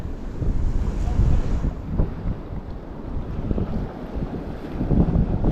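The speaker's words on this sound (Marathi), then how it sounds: "पावसाळ्यात कसा समुद्र असतो तसा झाला इकडे सध्या" Rough monsoon-like surf surges and crashes continuously on the Konkan coast of India while strong wind buffets the microphone, the waves rising and falling in heavy swells.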